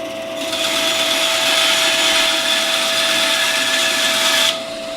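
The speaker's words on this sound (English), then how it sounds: "So I'm going to do that, and then we'll cut some wood" A Rikon 10-305 benchtop bandsaw cuts through wood with a loud, steady whine and a persistent tone, lasting about four seconds before dropping back to idle.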